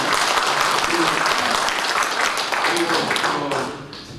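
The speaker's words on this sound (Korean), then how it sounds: "우리 선배들 박수 한번 보내주세요." A gathering bursts into loud, sustained applause, with dense clapping filling the space and a few voices under it, fading slightly toward the end.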